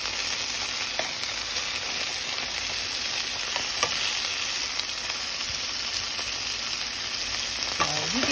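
Chicken pieces browning in a hot pan for chicken scampi, a loud continuous sizzle that holds steady, with a few spatula scrapes near the end.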